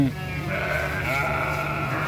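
Sheep bleat loudly and repeatedly at close range while being sprayed with a lice treatment in Saudi Arabia, their wavering calls continuous over steady background noise.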